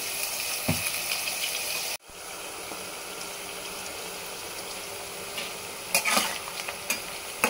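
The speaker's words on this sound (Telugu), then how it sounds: "ఒక 2-3 మినిట్స్ వదిలేస్తే అదే మంచిగా ఫ్రై అయిపోతుంది" Bitter gourd slices fry in a pan with a continuous moderate sizzle. A sharp cut comes early on, then scattered clinks and scrapes of stirring follow near the end.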